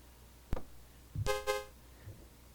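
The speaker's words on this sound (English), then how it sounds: "You'll hear background noise, often like a car beeping, which you just heard." A short car horn beep in the Commodore 64 game Street Sports Baseball sounds twice in quick succession, bright and tonal, preceded by a sharp click and followed by quiet.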